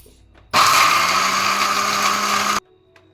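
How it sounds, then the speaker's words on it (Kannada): A mixer grinder whirs loud and steady for about two seconds while grinding soaked lentils into vada batter, then cuts off abruptly into near silence. "ಇದನ್ನು ಹಂಗೆ ರುಬ್ಕೊಳ್ಳೋಣ"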